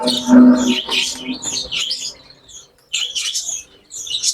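Dove chicks at a bird farm make a run of close, bright chirps and twittering calls in short bursts, with brief quiet gaps between them.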